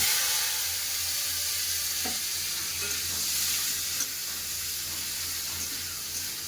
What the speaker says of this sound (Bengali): তেল গরম হয়ে গেছে ফোড়নে দিয়ে দেবো একটা শুকনো লঙ্কা পাঁচ ফোড়ন